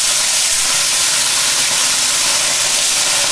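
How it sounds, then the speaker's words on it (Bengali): Coral fish frying in hot oil gives a loud, continuous, dense sizzling hiss that stays steady throughout without pause. "কোরাল মাছ এর তেলের মধ্যে দিতে আছে"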